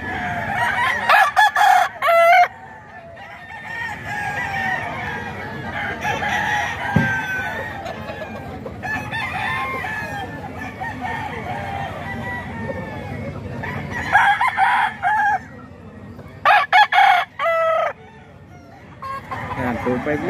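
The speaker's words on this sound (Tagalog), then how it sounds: "Ang lalaking manok mga ka-idol oh." Several loud rooster crows ring out in bursts near the start, middle and end, with clucking fowl and faint talk beneath on a farm with fighting cocks.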